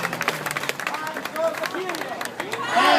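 A rally crowd opposing a US-led attack on Syria claps and cheers in loud, dense bursts at close range, with shouting voices and babble mixed into the applause.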